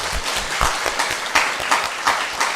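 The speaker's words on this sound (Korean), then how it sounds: "하나님께 영광의 박수 올려드리겠습니다." A church congregation at a Sunday morning service breaks into close, energetic applause, a dense continuous patter of many hands with some heavier thumps, steady throughout.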